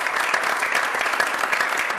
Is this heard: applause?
yes